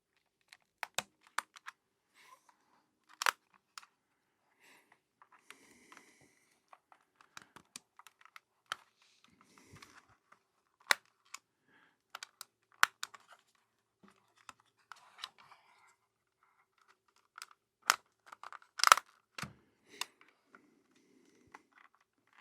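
Plastic trim piece being pried off a game controller: scattered sharp clicks and small snaps, quiet and close, irregular with gaps, a few louder cracks near the end.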